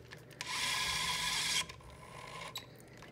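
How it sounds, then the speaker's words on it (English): A Kolver K-Ducer transducer electric screwdriver with torque control drives a screw, a brief whirring motor run of about a second, then softer mechanical clicks and a short buzz, close and fairly quiet. "So you can see that when we run the driver"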